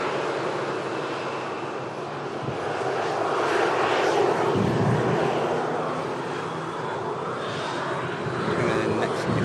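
Aircraft engine roar at Manchester Airport during a touchdown, a broad steady rumble that swells in the middle and then eases, heard from a distance with no talking.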